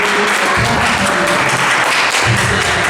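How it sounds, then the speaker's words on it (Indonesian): Dense, loud applause rings through a church during an HKBP youth anniversary service, with continuous overlapping claps and some low crowd murmur underneath. "sudah tepuk tangan ya"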